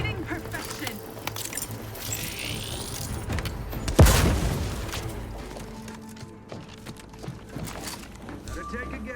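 A grenade explosion in The Outer Worlds 2, a single sharp boom about four seconds in that decays into a rumble, set among clattering footsteps and game ambience, with a voice speaking.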